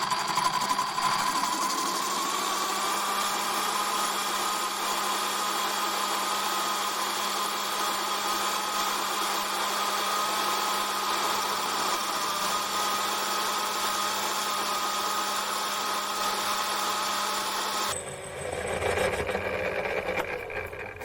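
A homemade Gingery milling machine taking a light cut, a steady dense mechanical whir with a constant hum and chatter running evenly, then changing character abruptly near the end as the cut finishes.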